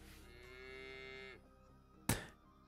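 A cow moos once in the video game Yaga, a long steady low call lasting over a second, followed by a short sharp thud.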